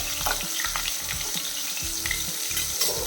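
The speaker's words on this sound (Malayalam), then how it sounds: "എണ്ണ ചൂടായിട്ടുണ്ട് നമുക്ക് ആദ്യം കുറച്ച് കറിവേപ്പില ഇട്ട് കൊടുക്കാം" Curry leaves dropped into hot oil in a pan for karimeen masala fry crackle and sizzle loudly and close up, with a few quick stirring scrapes and no voices.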